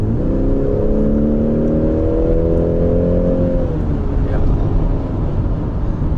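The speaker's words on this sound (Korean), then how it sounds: "스포츠 모드를 하게 되면 3000rpm서부터 지금처럼 엔진의 배기 사운드 들립니다" A BMW X3 30e plug-in hybrid in sport mode: loud engine exhaust drones close by from about 3000 rpm, its pitch climbing as it revs and then easing back into a lower rumble.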